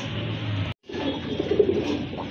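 A pair of racer pigeons coos softly and continuously at close range, cut by a split-second gap, with no talk.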